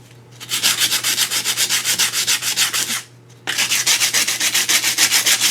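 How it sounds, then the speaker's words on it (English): Sanding concrete filler by hand with 100 grit sandpaper: steady, rhythmic rasping strokes, loud and close, with a brief pause before the scraping resumes. "The grit of sandpaper I'm using is 100 grit"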